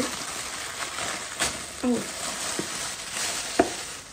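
Home-cooked Bangladeshi food reheating in a pan on the stove, with a steady close sizzle broken by a few scraping stirs and soft clinks of the spoon.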